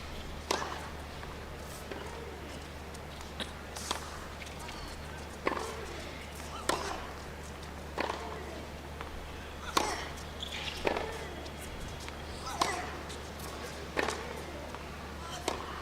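Tennis racket slice shots in a competitive rally at a WTA 125 women's match in Mumbai, sharp distant ball strikes at a steady back-and-forth rhythm over a low constant hum, with faint commentary.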